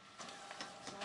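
A small photo printer prints a picture from a Nintendo DSi camera onto plain white paper, giving faint, rapid mechanical ticks and whirring pulses in a quiet room.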